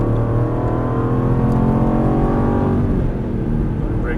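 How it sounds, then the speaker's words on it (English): An Aston Martin GT race car on a Las Vegas track accelerates out of a corner, its engine note climbing steadily and loud and close for about three seconds, then dipping briefly as the throttle eases. "Now start squeezing on that throttle coming out."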